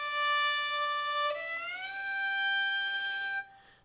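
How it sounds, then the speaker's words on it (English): A bowed string note is held with the fourth finger, then glides smoothly upward into a higher position and sustains there, close and resonant, before stopping abruptly. "You actually play fourth finger in the original position, and then you just shift up to your target position"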